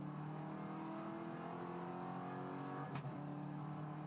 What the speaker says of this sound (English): ripping through the gears up the back straight